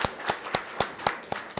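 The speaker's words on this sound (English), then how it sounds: "let's have another round of applause" Scattered hand claps from an audience at an honor society induction ceremony welcoming new members, about seven distinct sharp claps spaced at fairly even intervals, moderately loud and close, with no talking over them.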